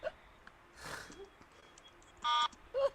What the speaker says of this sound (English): What is that alarm?